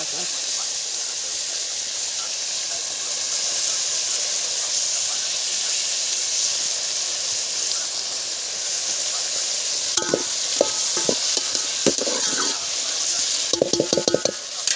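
Chopped tomatoes with salt fry in a pan, giving a steady close sizzle and hiss for the whole stretch, with clattering stirring taps near the end.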